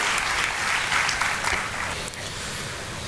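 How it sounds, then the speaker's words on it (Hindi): An Independence Day ceremony crowd at a university claps in dense, sustained applause, fairly close and steady, tapering slightly toward the end. "हमारी तालियां इसमें हमारा सहभागिता अभिव्यक्त कर रही हैं।"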